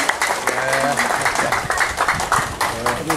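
Audience applause welcoming a guest at a community hearing in a village hall, uneven clapping mixed with voices and talk over it, close and lively.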